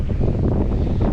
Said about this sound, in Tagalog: Lakas ng hangin, oh. Lakas ng hangin.